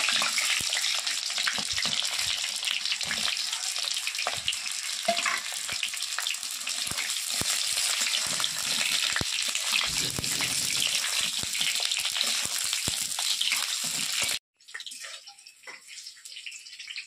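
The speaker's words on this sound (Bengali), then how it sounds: "কড়াই তেল গরম হয়ে গেছে, এবার পটলগুলো ভেজে নেবো, সব একসঙ্গেই দিয়ে দেবো পটলগুলো।" Pointed gourd (potol) frying in hot mustard oil in a wok gives a loud, dense, continuous sizzle with faint stirring clatter, cutting out briefly near the end before a quieter sizzle returns.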